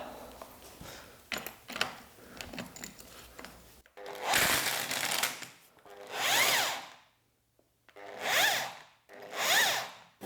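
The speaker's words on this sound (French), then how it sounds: "Je prends la clé à choc et rame." Impact wrench used on a Peugeot 106 drift car's suspension, with handling clatter at first, then several loud bursts of whirring tool noise separated by pauses.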